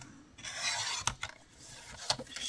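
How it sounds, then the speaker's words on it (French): A craft knife blade draws through scrapbooking paper in short, close scratchy strokes, with two sharper rasping cuts standing out, faint and alone. "Je découpe déjà une première fois par-dessus les traits qui correspondent."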